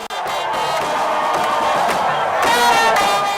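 Jubilant crowd cheering and shouting in welcome as a president's motorcade arrives at meeting grounds, a loud continuous roar of many voices that swells toward the end.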